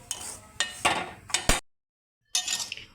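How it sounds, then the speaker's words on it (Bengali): Semolina being stirred in a pan over a stove, with a spoon scraping and clinking against the metal in several short bursts, a brief silence, then more close scraping. "সুজিটা একটু ভালো করে নেড়ে নিচ্ছি"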